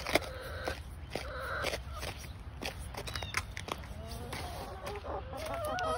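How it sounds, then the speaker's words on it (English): Chickens cluck and murmur close by, with short squawks and a faint distant crow amid a busy outdoor background; a turkey is among them. "here we have the chickens and Frankie the turkey"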